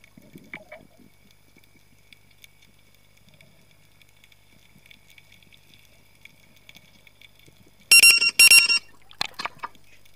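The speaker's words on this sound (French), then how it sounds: "Petit bip là, c'est la caméra qui s'éteint." Near the end, a few sharp, loud electronic beeps in quick succession, with a couple of fainter blips after, following a mostly quiet stretch.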